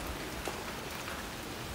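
Steady rain falls outdoors during work on a large garden pond, a dense, continuous hiss of drops with no voices.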